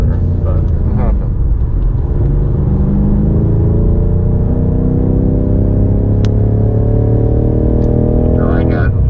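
BMW M5 Competition accelerating on the Indianapolis Motor Speedway F1 road course, its engine rising in a long steady pitch sweep from close inside the car, loud and continuous over a low rumble.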